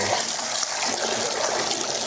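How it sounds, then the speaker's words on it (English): Fresh water gushing hard from a sometimes-sticky kitchen tap, a steady, loud, continuous rush of running water with no talking over it. "as the water's gushing out"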